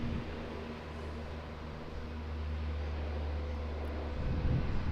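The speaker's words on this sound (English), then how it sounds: "We've got a Q300, Air New Zealand Bombardier Q300." Air New Zealand Bombardier Q300 turboprop departing Auckland Airport, a steady, broad engine roar with a low propeller drone that holds and slightly builds over several seconds, heard without talk.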